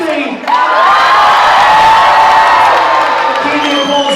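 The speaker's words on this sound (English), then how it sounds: "You can keep the applause going. I know he likes the biggest cheers and shouts that you can." A large audience aboard the Disney Magic cruise ship cheers, whoops and applauds for Goofy, a loud sustained roar of shouting voices and clapping that swells quickly and holds for several seconds.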